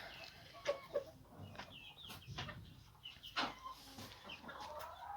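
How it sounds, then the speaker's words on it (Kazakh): Scattered, fairly faint clucks and short calls from a group of Adler chickens in a coop over a low background hum. "Әділер тауықтары."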